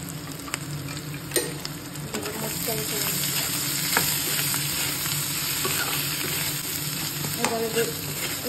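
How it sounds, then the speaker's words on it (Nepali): Potatoes fry in oil with turmeric and salt after browned onions, for a Nepali potato and gundruk curry; a dense, loud, continuous sizzle with scattered clicks and scrapes of stirring throughout, no voices. "मजाले फ्राई गर्नुपर्छ तेलमा"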